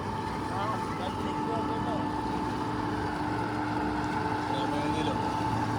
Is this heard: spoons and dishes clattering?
no